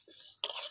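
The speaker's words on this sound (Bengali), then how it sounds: "সোনা মুগ ডালটা হালকা করে ভেজে নেব" Sona moong dal being dry roasted in a pan and stirred, a brief scraping, rustling stir that bursts in loudly midway after a quiet start, with no talk.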